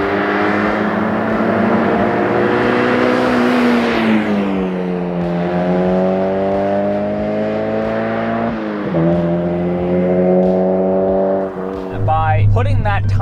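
A Mazda NC Miata fitted with a cheap RoadsterSport race exhaust revs up and holds a raspy, droning engine note that rises and shifts with throttle, close and loud, ending in a deeper burble.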